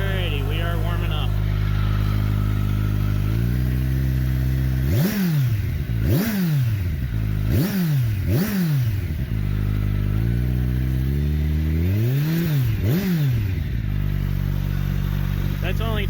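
A 2021 Kawasaki Ninja 1000SX fitted with a Yoshimura exhaust idles steadily while warming up, then is revved sharply about five times, each blip rising and falling quickly, loud and close throughout.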